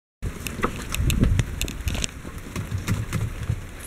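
Rain falls outdoors in a steady, close pattering with dense crackly drops and no voices.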